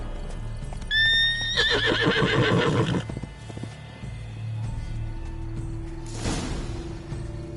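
Roach, the horse in The Witcher 3: Wild Hunt, lets out a loud whinny with rising pitch, followed by snorting and clip-clopping hooves, then a second breathy snort near the end.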